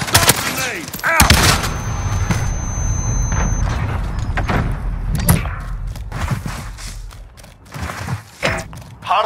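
Stun grenade detonating in Call of Duty Modern Warfare Hardpoint multiplayer: a sharp, loud bang early on amid ongoing gunfire and thuds, with more scattered impacts later.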